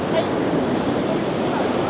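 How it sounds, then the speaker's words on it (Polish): Strong ocean waves crash on a beach on Koh Samui, a loud continuous surf roar with wind buffeting the microphone and no break in the wash. "Fale tak się mocno rozbijają, że normalnie nie słychać własnych myśli"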